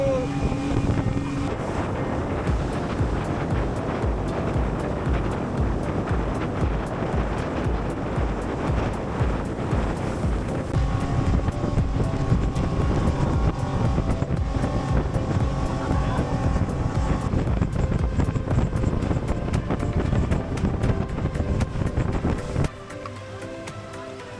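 Tour boat motor droning steadily across the water at Kilim Geoforest Park, Langkawi, with loud wind buffeting and splashing throughout, dropping away abruptly near the end.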